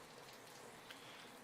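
Rain sounds playing in the background of a chill livestream: a soft, even hiss of steady rainfall with fine patter, faint and continuous, with no talking over it.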